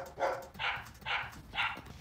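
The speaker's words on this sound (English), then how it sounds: "lots of dogs" Four quick dog barks in a steady rhythm, moderately distant and fairly soft, with no talking.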